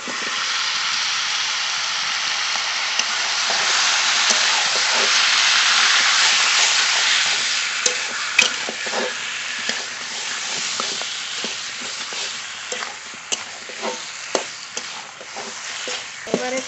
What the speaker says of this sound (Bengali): আগে থেকে মশলা করে রাখা মাংস দিয়ে দেব।